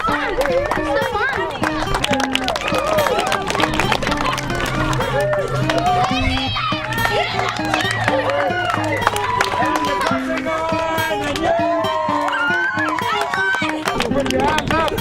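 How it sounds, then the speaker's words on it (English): Children running a race while a crowd cheers, with busy voices and chatter throughout, lively and continuous, with shouts and excited calls rising over the patter of activity. "So run around and everybody cheer them on."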